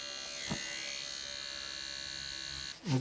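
A Nano tattoo machine running at 4.5 for shading gives a steady, thin electric buzz with a constant hum for most of the clip. Brief handling knocks come in at the start and near the end.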